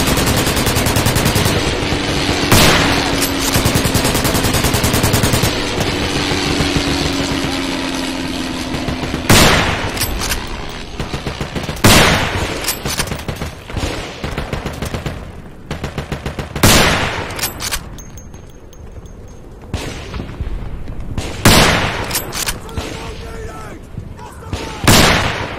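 Machine gun fire in the WWI video game Screaming Steel 1914-1918 on the Somme map: loud repeated bursts and rattling volleys amid distant booms, with people talking over the battle.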